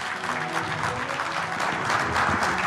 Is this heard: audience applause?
yes